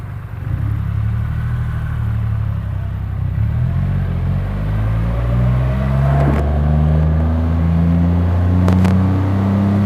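A 2021 Triumph Rocket 3 GT motorcycle engine pulls hard under acceleration, its deep, steady rumble climbing through rising revs for about ten seconds, loud and close with no talking.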